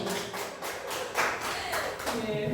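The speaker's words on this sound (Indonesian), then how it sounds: "Tepuk tangan Bapak Ibu." An audience of teachers at a positive-culture dissemination session claps, uneven bursts of hands with some taps and thumps, voices murmuring underneath.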